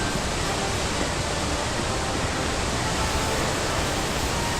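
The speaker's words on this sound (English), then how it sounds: "the waterfall is so damn noisy" Noisy waterfall in the game Dragon Quest XI, a steady loud rushing roar of falling water with no pauses or voices.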